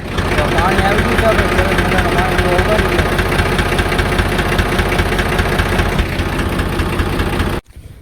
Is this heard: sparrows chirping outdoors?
no